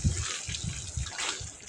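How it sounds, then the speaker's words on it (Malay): Water poured in small amounts into blended curry spice paste cooking in oil for a homemade fish curry, a soft, close splashing trickle with faint sizzling bursts, heard alone. "Okay, ni kita bubuh air sikit-sikit."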